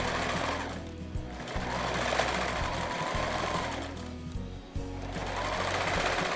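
Sewing machine running a zigzag stitch while joining fabric pieces of a crib cushion, a steady close mechanical whir with a brief pause or two, no talking.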